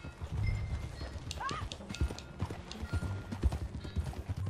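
A horse in Red Dead Redemption 2 whinnies once with a rising, wavering neigh while steady clip-clopping hooves continue throughout, with faint voices underneath.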